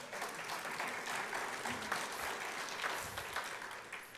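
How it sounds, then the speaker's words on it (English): A lecture audience at a Nobel Conference applauds steadily, with dense, even clapping that stays at a fairly constant level for the whole stretch, heard from the room without any voices on top. "So you all actually deserve to give yourselves a round of applause"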